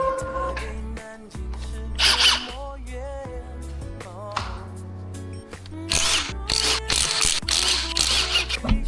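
A ratchet tool removes a car wheel during a brake disc and pad change. Close, repeated bursts of mechanical whirring and clicking come in uneven spurts, with no talking.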